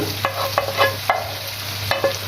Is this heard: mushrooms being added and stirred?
yes